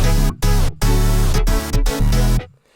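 A loud future funk loop of stacked instruments runs through several choppy chords, then the whole mix slows and drops in pitch under a tape stop effect, fading out abruptly near the end.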